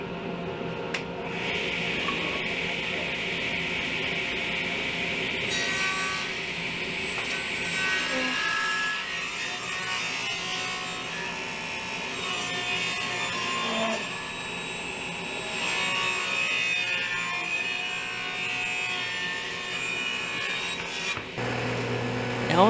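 Power saw ripping wooden pieces to width for a bench seat, a steady loud whine with shifting pitch as the blade bites, running continuously for over twenty seconds before cutting off.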